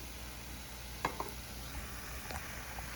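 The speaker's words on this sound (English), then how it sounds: "Let's give it a stir." Ground beef mixed with enchilada sauce being stirred in a pan: a faint, steady low sizzle with a couple of soft clicks and scrapes from the spoon, close by and quiet, with no voices.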